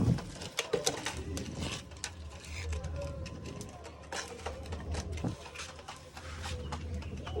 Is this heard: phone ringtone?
no